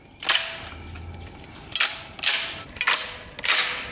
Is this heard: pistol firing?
yes